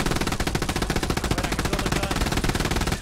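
Sustained machine gun fire in the WWII shooter Hell Let Loose, a loud, steady, rapid rhythm of closely spaced shots running continuously throughout.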